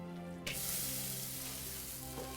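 Onion and chives go into melted butter in a pot, and a soft sizzle starts abruptly and settles into a quiet, even frying hiss, close by with no talking.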